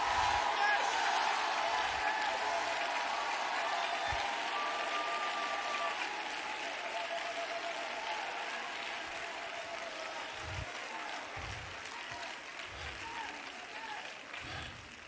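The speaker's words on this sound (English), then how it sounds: "Clap your hands again and shout like a terrorist for Jesus." A church congregation claps and cheers in sustained, dense applause that fills the room, with a few low thumps beneath and the roar easing slightly toward the end.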